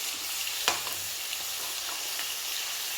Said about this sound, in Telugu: ఒక టూ మినిట్స్ దీన్ని సాఫ్ట్ అయ్యే వరకు ఫ్రై చేసుకోండి